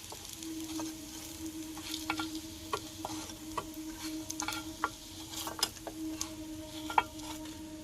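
Potato and egg fritters with green chili sizzle in hot oil, a soft steady fry broken by frequent small crackles and pops, fairly quiet and close, with no talking.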